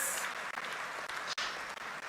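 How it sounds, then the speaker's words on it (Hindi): Applause at a state startup policy launch event in Madhya Pradesh, a dense steady round of clapping from a large audience, fairly faint and even throughout, with no voices over it. "एक बार जोरदार ताली बजा के फिर स्वागत कीजिए, अभिनंदन कीजिए।"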